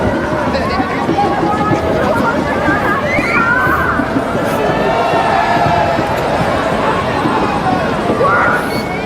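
A dense, continuous roar of crowd babble fills a packed cricket ground in Hong Kong during a Pakistan versus South Africa final, loud and steady throughout, with commentary voices running over it.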